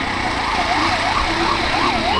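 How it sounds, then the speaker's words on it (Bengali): Ambulance siren wailing up and down in a steady rising-and-falling cycle amid street traffic in Dhaka, loud and close over a constant road rumble. "ইন্ডিয়ান অ্যাম্বুলেন্সের মতো লাগে"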